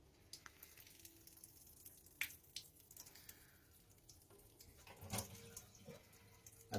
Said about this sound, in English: you'll see the amount of water that drips out of this that would have been trapped